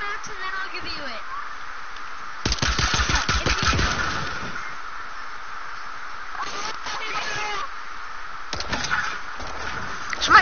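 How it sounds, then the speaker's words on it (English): Bursts of rapid gunfire from a PS4 building-and-shooting video game, crackling in clusters over continuous game background noise, the loudest volley mid-clip and shorter bursts later. "Somebody's shooting at me"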